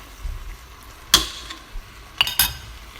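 Cleaned beef is spread into a hot pot for an Italian Genovese stew, giving light sizzling with a few sharp clinks and scrapes of a utensil against the pot, fairly close and with no talking.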